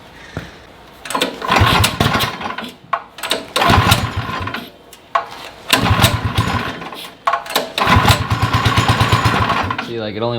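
A small engine is cranked over and over and catches in short bursts of sputtering roar that die away between tries. It runs rough and unevenly, and a voice is heard close by.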